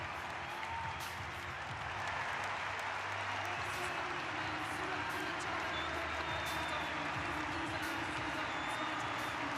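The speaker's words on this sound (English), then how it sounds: "here the applause, which is deserved from the grandstand here for SC Freiburg" Grandstand crowd applauding SC Freiburg at a women's DFB-Pokal football final, a distant, continuous wash of clapping and crowd noise heard faintly across the stadium throughout.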